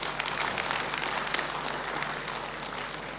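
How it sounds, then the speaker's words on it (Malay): A crowd applauds steadily at an academic staff hi-tea reception, dense clapping filling the room at an even level and fading slightly toward the end. "Kerana kita beri tepukan kepada dia lah."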